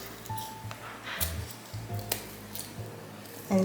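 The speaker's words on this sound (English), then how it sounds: "It's pretty easy to cut with scissors." Small household scissors cut a paper template in a few crisp snips separated by quiet pauses, close to the listener, with faint low background hum.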